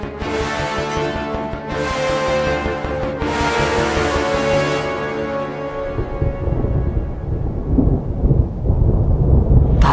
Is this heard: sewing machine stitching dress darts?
no